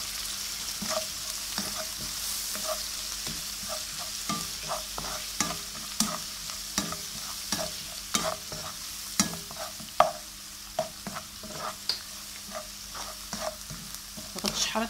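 Vegetables fry in olive oil with vinegar in a pan on a stove, a steady close sizzle broken by frequent sharp clinks and scrapes of stirring.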